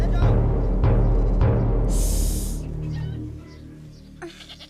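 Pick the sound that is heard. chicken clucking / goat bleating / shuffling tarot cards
goat bleating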